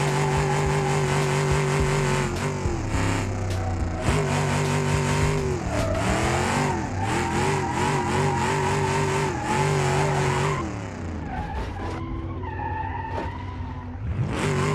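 A drift car in BeamNG.drive revs hard and continuously, its engine note rising and falling with shifts and throttle, with a dip near the end before revving up again. Loud and close, with some tire squeal mixed in.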